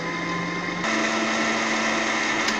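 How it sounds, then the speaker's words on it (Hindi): Electric blender whirring steadily as it purees a green drink mixture of coconut and banana milk, a continuous motor drone that shifts pitch once partway through, loud and close with no talk. "अब इसे मैं दोबारा फटाफट ब्लेंड करता हूँ, हम इसे ब्लेंड करते हैं।"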